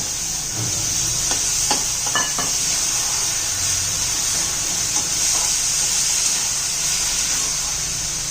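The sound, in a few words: adding sprouted moth beans to sizzling masala and stirring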